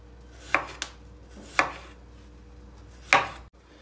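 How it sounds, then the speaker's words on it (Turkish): Three crisp knife strikes on a cutting board thinly slicing potatoes, spaced about a second apart, clear and close against a quiet background. "ince ince bıçakla da doğrayabilirsiniz"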